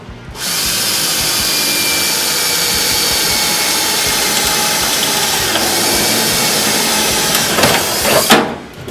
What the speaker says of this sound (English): I'm just going to actually put a drill hole down through here somewhere that I can stick a cleco in